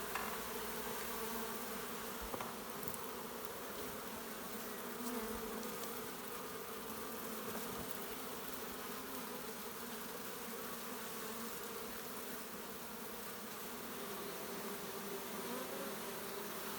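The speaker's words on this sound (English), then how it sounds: "There's just so many bees." Honey bees in an open hive during a hive split, a dense, steady buzzing of many insects that fills the whole stretch at an even level, close by and with no voices.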